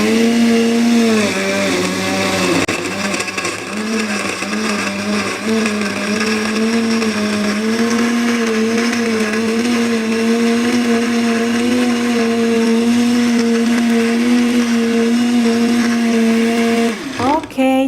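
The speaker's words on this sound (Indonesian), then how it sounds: "sekarang saya mau langsung ke yang blendernya aja" An IDEALIFE IL-220 blender whirs loudly and steadily while blending smoothies, a close, continuous motor drone with a brief pitch dip near the start and a quick spin-down at the end.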